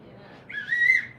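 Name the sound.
whistle being blown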